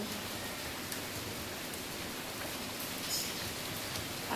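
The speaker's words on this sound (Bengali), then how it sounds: "কি বৃষ্টি হচ্ছে বাইরে" Steady rain falls outside, a dense, even hiss that holds at a constant level throughout with no voices over it.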